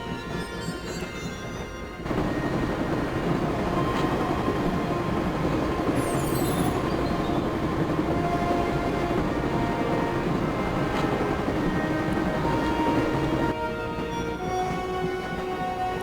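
A video game train rolls along the tracks with a steady, dense rumble and rattle of wheels that swells louder after a quieter opening, with a brief high squeal midway and no talk.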